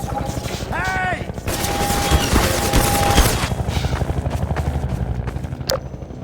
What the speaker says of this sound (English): Since you brought that chopper in on your tail, you want to maybe help us take it down?